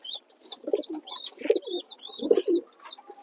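Fantail pigeons at a loft in Kolkata give three distinct close, throaty coos with soft chirping above them, in an otherwise quiet setting.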